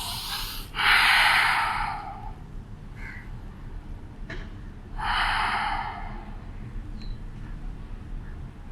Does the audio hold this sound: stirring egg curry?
no